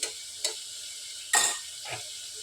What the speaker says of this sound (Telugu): అల్లం వెల్లుల్లి పేస్ట్ పచ్చివాసన పోయేంత వరకు ఈ విధంగా ఫ్రై చేసుకుందాం.